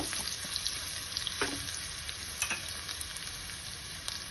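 Asafoetida, ginger, green chilli and cashews fry on low heat for kattu pongal, a close, steady sizzle with small crackles and the occasional stir, no voices.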